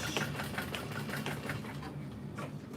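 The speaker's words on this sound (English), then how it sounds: "I like to back stitch over that side seam" A sewing machine back stitching over a side seam on a custom handmade doll runs in a steady, rapid mechanical chatter at close range, continuous and without talk.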